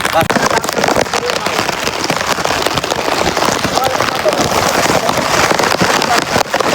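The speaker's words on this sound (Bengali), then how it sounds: "আর এই যে বৃষ্টি" Loud, dense rain pours down close by on a rough seashore at Kuakata, a constant rushing patter with gusty noise, and a voice speaks faintly beneath it.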